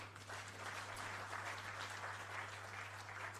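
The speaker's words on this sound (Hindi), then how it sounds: "इतने बड़े सांभ्रांत वर्ग अभी ताली बजाकर आनंद व्यक्त करता है" Audience clapping at a book launch event, a steady even patter of applause from a crowd lasting throughout, heard from a distance and fairly quiet.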